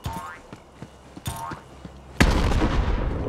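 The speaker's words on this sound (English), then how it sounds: "Let's toss another grenade out there." Grenade explosion in Borderlands 3, one loud, broad boom that trails into a rumbling decay, following a series of small clicks and pops.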